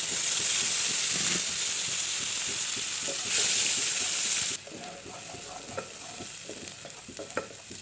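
Mashed tomato hitting oil left from frying fish, seasoned with nigella seeds over a low gas flame: a loud, steady sizzle that suddenly drops to a softer fry, with light stirring taps near the end.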